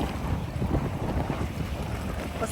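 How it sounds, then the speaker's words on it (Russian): A stormy sea and gusting wind at Langeron beach in Odessa, with waves churning as a small storm builds. Heavy wind buffets the microphone over a dense, continuous roar of surf, with no voices. "Посмотрите, море начинает волноваться."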